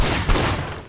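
Gunfire from the open-world action video game Sleeping Dogs, a loud dense burst of shots packed into a single second with no talk over it.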